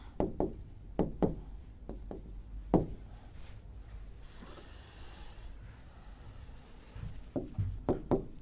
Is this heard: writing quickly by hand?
yes